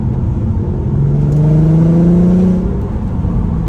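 A VW Golf Mk5 R32 3.2-litre engine hums steadily from inside the cabin, then its deep Milltek exhaust note swells and rises for about a second and a half before settling back.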